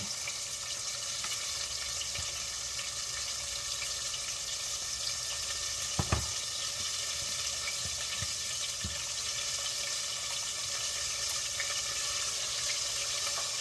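Tap water runs steadily from a kitchen faucet as hands are washed, a continuous broadband hiss with a few brief knocks and splashes partway through, close and fairly loud with no talking.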